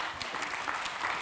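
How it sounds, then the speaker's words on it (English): Brief, fairly quiet applause from a small audience at the close of a cancer-care workshop presentation, a scatter of hand claps lasting only a moment. "applause."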